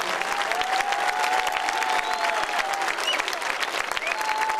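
A festival crowd gives strong applause for a singer and his accompanying musicians, sustained dense clapping from a large audience, steady and even from start to finish, with a faint tone lingering underneath.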